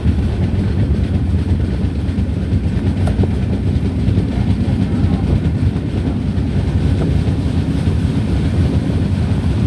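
Kanniyakumari Express pulling away from Chirayinkeezh station in Kerala, recorded from on board: a loud, continuous rail rumble and wheel clatter with steady wind noise, no talking.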